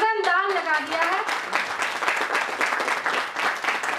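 An audience at an award ceremony bursts into sustained loud applause, dense clapping continuing over a brief cheer or voice at the start.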